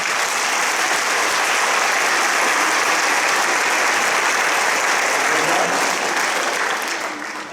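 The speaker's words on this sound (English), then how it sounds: "So give these individuals a round of applause" Loud, dense audience applause in a school auditorium after a spring concert by student wind ensemble, concert band and jazz band; continuous clapping throughout, tapering slightly at the end.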